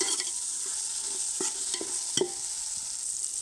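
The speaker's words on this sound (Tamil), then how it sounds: "அதனால் கிண்டி விட்டுட்டே இருங்க." Garlic sizzles in a pan for chicken dum biryani while a spoon stirs it, a steady hiss with a few sharp scraping knocks spaced apart, close and fairly quiet.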